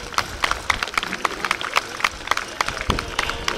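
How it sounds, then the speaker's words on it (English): Outdoor crowd applauding a Fordson tractor majorette display, scattered sharp handclaps in an irregular patter of moderate loudness, with faint background noise. "Give him a big round of applause."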